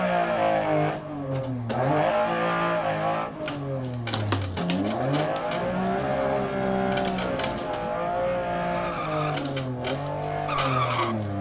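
A damaged Lancia Stratos rally car's engine revs and strains through repeated rises and falls in Dirt Rally, racing on a Monaco stage, loud and continuous with tire squeal and skidding scattered between the revs.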